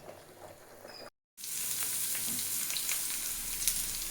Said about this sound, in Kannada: ಮೀನಿಂದು ತುಂಬ ಮೊಟ್ಟೆ ಬಂದಿದೆ, ಫ್ರೈ ಮಾಡ್ತಾ ಇದ್ದೀವಿ.